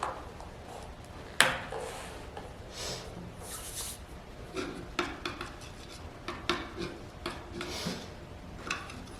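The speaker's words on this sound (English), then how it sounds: "And I'm just going to stir it a little bit." A spoon stirs a glue-based bouncy ball mixture in a bowl, making soft intermittent scraping and clinking strokes. The sound is close but faint, with irregular knocks against the bowl.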